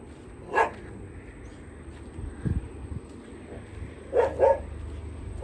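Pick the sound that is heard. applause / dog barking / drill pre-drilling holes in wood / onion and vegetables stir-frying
dog barking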